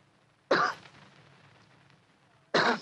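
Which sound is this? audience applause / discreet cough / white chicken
discreet cough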